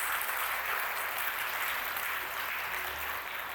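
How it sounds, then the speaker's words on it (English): Audience applause at the inaugural ceremony of a sports complex, a dense, even wash of clapping hands that stays steady and fairly soft throughout with no voices over it. "a big round of applause for the student achievers and faculty members"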